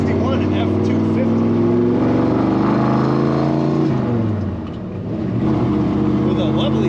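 A 1961 Ford F-250 4x4 pickup with a four-speed manual on the road, its engine droning loud and steady with a dip as it shifts, under ongoing talk.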